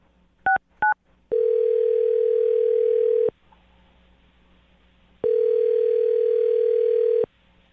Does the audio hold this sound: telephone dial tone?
yes